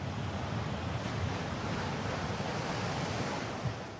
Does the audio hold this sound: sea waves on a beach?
yes